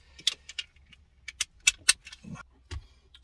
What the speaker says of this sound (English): Let's take the key out.